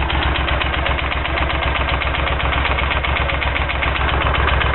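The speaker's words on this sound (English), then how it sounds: "Now that the bike has started, you can actually see and hear what the bike sounds like." A Moto Guzzi V11 motorcycle fitted with a Mistral crossover exhaust idles steadily, its low, even engine pulse thrumming loud and close without pause, with no voices over it.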